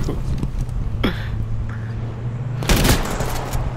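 Gunfire in the survival shooter H1Z1, a few sharp shots at irregular intervals with a loud burst near the end over a steady low hum.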